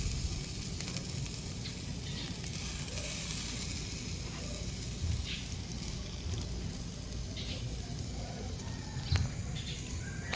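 Whole fish grilling over heat gives a steady, dense sizzle and crackle that runs without a break and stays fairly close, with no voices over it.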